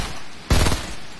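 A single short, loud burst of rapid gunfire in Fortnite, laying down suppressing fire against a quiet game backdrop.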